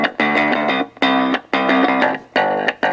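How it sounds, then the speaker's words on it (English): Music plays from the small built-in speaker of a LIERONT 1080p hidden camera clock, reading tracks off a memory card. It sounds bright and somewhat distorted, coming in short loud bursts with brief gaps and no talking. "we should be able to play the music that's on that card"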